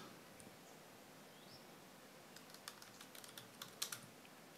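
Soft, quick keystrokes on a computer keyboard, a short irregular burst of typing, faint against a quiet room hiss.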